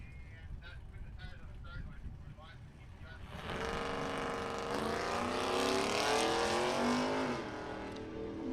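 Engines roar down the strip in a drag race run between a Trailblazer and a 1992 Mustang, quieter at first, then swelling into a loud, rising engine note, with wind noise and voices in the background.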